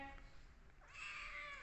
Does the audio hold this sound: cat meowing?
yes